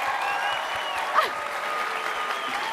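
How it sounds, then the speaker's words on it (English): Steady crowd applause for an Olympic champion and Bowerman Award winner at a track and field awards presentation, continuous and dense, with faint whistles or whoops rising briefly. "Can we just get one more round of applause for Julian?"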